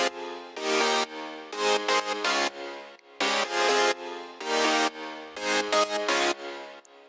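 Stabbing synth chords from an EDM track, their top notes raised for variation, pulse loudly in short rhythmic bursts separated by brief gaps, with no voices over them.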